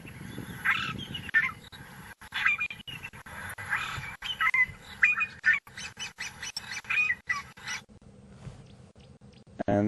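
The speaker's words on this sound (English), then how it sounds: "that is a fork-tailed Drongo, a common resident" A fork-tailed drongo gives a series of short, metallic whistled calls, repeated in bursts against a windy, rumbling outdoor background on a safari drive.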